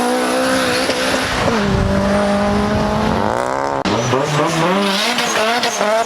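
A Lexus IS 250 drives close by with a loud, tonal engine note that rises and falls through revs, with a brief tire-squeal-like sweep in the middle. It stays loud throughout and no voices are heard.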